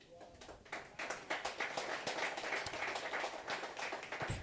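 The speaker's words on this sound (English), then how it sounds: "Thank you for clapping." Scattered audience clapping at a business workshop, a few pairs of hands patting unevenly and moderately close, building after the first second and continuing steadily without a crowd roar.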